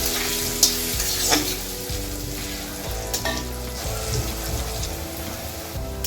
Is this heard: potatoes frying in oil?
yes